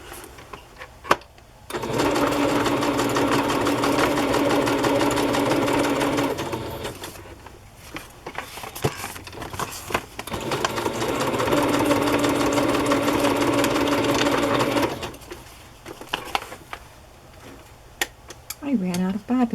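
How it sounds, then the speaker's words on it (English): A sewing machine stitches through decorated paper pages of a French farmhouse-style journal in two long, steady runs of rapid mechanical whirring. A brief pause separates the runs, and faint handling noises fill the gaps. "I'm going to go ahead and sew this now"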